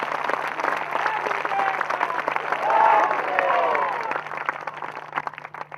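An audience at a spiritual discourse breaks into sustained clapping, a dense, continuous wash of applause with cheering voices rising in the middle.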